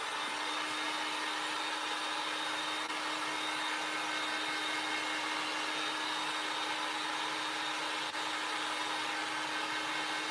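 A hair dryer runs steadily and loudly for the whole stretch, blowing to dry fresh paint on a pillow case, an unbroken whirring drone with no speech.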